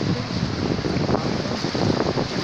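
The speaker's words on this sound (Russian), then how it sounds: "Такие чудесные волны." Baltic Sea waves wash onto the beach at Liepāja on a summer day, a steady broad roar of surf mixed with wind noise on the microphone, continuous and close, with no talk.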